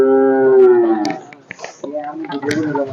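Brahman cattle on a farm give a loud, close moo with a long sustained low call at the start, followed by quieter farm noises and a person talking.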